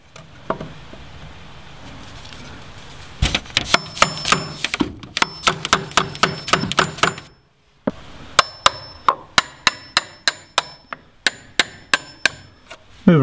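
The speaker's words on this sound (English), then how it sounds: "now we'll see if we can chisel this some" A mallet strikes a chisel into wood while a compost toilet door is fitted in a tiny house, delivering rapid, sharp, close taps in bursts with a brief pause midway, loud and alone.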